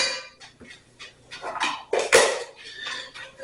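A spoon stirs and scrapes in a pot of French chicken braised in cider, with a few clinks and knocks against the sides, a louder scrape near the end, and no voices.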